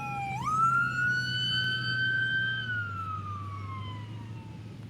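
An ambulance siren near a beach, one long rising and slowly falling wail, fairly loud and close, over a low steady rumble of traffic.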